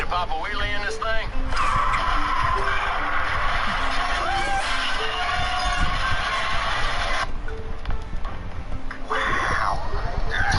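A car revs hard and its tyres skid and screech in an animated comedy scene, loud and continuous, with voices talking over the engine noise.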